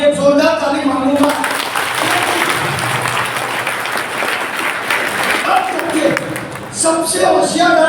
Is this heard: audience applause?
yes